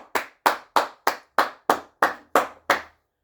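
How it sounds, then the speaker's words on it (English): Nine sharp, evenly spaced hand claps close a podcast episode. They are steady, slow and close, with brief silences between them and no voices. "I'm going to close it with an applause for episode 150"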